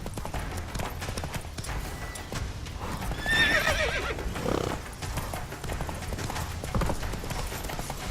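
Roach, Geralt's horse in The Witcher 3, gallops with steady clip-clop hoofbeats and a sharp whinny midway, all set against continuous game music and ambience.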